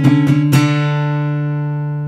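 Guitar notes sounding a dissonant interval that resolves to a consonant one: three quick plucked strikes, then a clear, ringing chord that sustains and slowly fades, with no voices.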